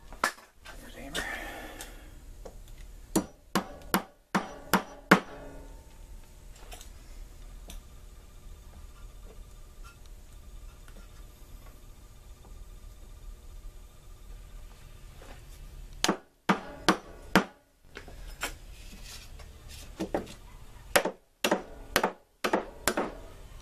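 Hammer blows driving pins into a wooden cleaver handle, sharp close taps in quick bursts of several strikes separated by quiet stretches of handling.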